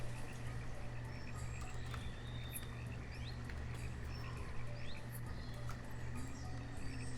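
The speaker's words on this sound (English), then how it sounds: "you can hear the crickets and stuff down here" Crickets chirp faintly in the Banished village game, a soft, continuous rural night ambience of insect trills over a low steady hum.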